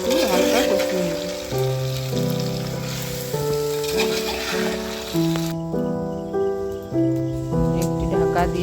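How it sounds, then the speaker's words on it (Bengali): Chicken for a village-style handi curry fries in a clay pot, giving a steady sizzling hiss that sits under louder background music. "চিকেনটা দিয়ে এভাবে 4-5 মিনিট একটু হালকা কষিয়ে নেব।"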